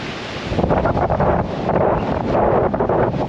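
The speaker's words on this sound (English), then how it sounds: "It is really blowing." Strong gusty wind on a Lake District mountain, Dove Crag, during a storm buffets the microphone with a loud, continuous roar that surges and eases in waves, with no voices.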